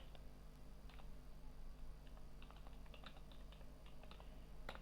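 Someone types a search on a computer keyboard, with faint, close keystrokes clicking in quick irregular bursts over a low background hum.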